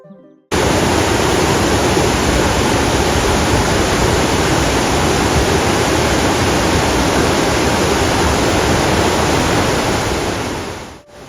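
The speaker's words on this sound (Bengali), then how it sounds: "এই পাহাড়ি ঝর্ণাটি সবসময় এত সুন্দর না থাকলেও আজ যেন ভরা যৌবন" Mountain waterfall in the Canadian Rocky Mountains, a loud, steady roar of rushing, crashing water that holds unbroken and close from start to finish.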